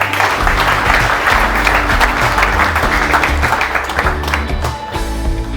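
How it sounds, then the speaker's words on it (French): Loud, continuous applause from an audience at an entrepreneurship training event, close and full, holding steady for several seconds before a slight dip near the end. "Est-ce qu'on peut applaudir pour vous quand même?"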